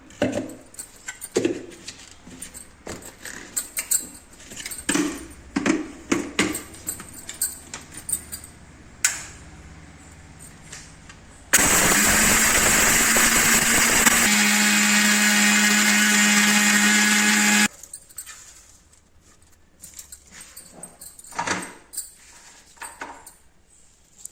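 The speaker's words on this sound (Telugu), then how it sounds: "ఇప్పుడు మిక్సీ పట్టేద్దాం ఇవన్నీ" A kitchen mixer grinder whirs loudly and steadily for about six seconds as it grinds roasted drumstick leaves and dried coconut, between stretches of clattering and handling the jar before and after.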